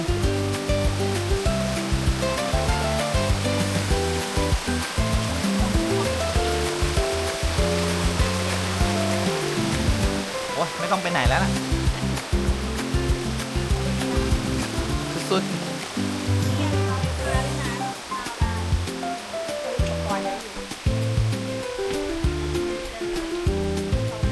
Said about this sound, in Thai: มีน้ำตกอยู่ข้างหลัง